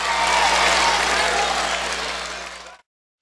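A basketball arena crowd at a Richmond Spiders versus Duquesne game cheers and claps loudly after a blocked shot, a dense roar lasting under three seconds before cutting off abruptly.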